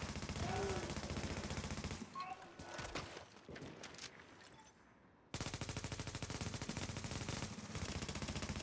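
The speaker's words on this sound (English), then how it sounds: "Now he's shooting you." Continuous rapid automatic gunfire rattles in the video game The Division, loud and steady. It drops out for a few seconds of scattered quieter sounds, then resumes just as intensely.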